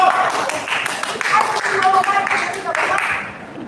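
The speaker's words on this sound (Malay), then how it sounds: "Rafidah Ibrahim, tepukan gembira gemuruh." A crowd bursts into loud, close applause, dense overlapping claps ringing steadily for a few seconds with slight swells and no break.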